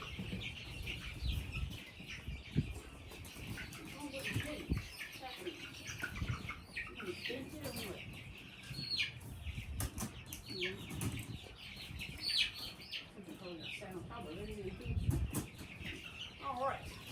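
Many chickens in a backyard flock of over 200 cluck and squawk repeatedly at close range, with wing flaps and scattered calls throughout and occasional faint talk.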